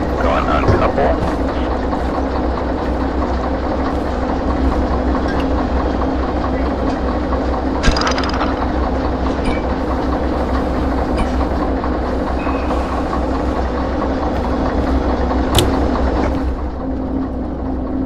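A locomotive in the Derail Valley VR train game rumbles steadily with scattered clanks and clicks of rail cars, a continuous close drone with brief sharp knocks.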